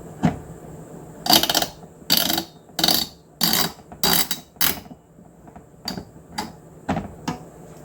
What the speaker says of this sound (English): Then we can start tightening the screws.